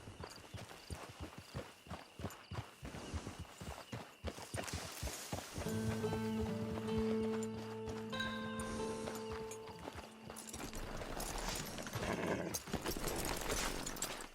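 Horse hooves clip-clop in Red Dead Redemption 2 as a horse trots up to camp, steady rhythmic steps with a whinny and some mechanical clinks layered in, fairly close and continuous.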